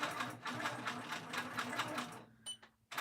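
A sewing machine machine-quilts a pin keep pillow, its needle running in a fast, steady rhythmic whir up close, then pausing briefly near the end before starting again.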